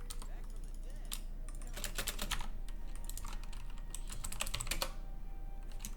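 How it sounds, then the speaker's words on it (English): Rapid clicking keystrokes from a Blue Switch mechanical keyboard during a League of Legends session, close and steady with bursts of faster typing and no speech. "I use a Blue Switch mechanical keyboard"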